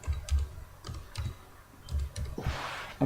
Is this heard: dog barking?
no